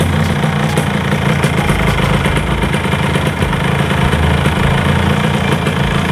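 A Yamaha RX King motorcycle engine runs steadily at idle, a loud, continuous mid-low rumble with fine rapid pulsing and no talk throughout.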